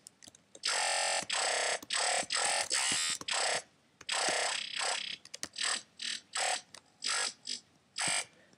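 A loud, gritty growl bass made in the Massive synthesizer plays in choppy bursts, stopping and starting in a rhythmic, stuttering pattern with brief gaps between hits.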